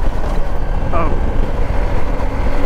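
A Suzuki V-Strom SX 250 motorcycle engine runs steadily while riding, a continuous low drone mixed with wind rush, with a brief higher tone near one second.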